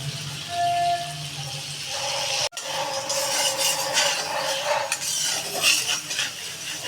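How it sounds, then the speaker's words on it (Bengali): Panch phoron spice paste and turmeric hit hot oil in a pan, giving a loud, steady frying hiss with a brief cutout partway through and light utensil clinks, with no talk. "সেই মশলাটা এখন তেলে দিয়ে দিচ্ছি আর দিয়ে দিচ্ছি হলুদ"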